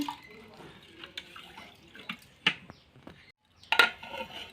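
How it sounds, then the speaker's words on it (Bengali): Rice is washed by hand with water in a cooking pot beside a clay stove, with sloshing water, drips and sharp clinks of grains and metal that grow louder toward the end. "এদিকে চালটাও ধুয়ে নিচ্ছি ভালো মতো"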